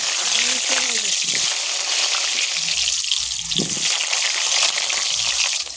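Potatoes frying in oil on a stove, with a continuous crackling sizzle throughout while a voice speaks briefly over it near the start.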